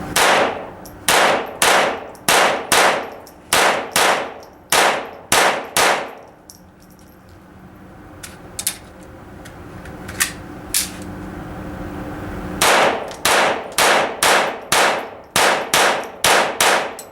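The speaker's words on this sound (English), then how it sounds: "we're going to shoot this little gun, and I'm going to show you just how accurate it is" A Ruger 22/45 .22 pistol fires two fast strings of about a dozen sharp, loud cracks each, separated by a quieter pause with a few faint clicks and handling noises.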